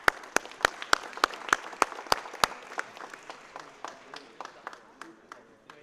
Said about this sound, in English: Please join me in one last round of applause.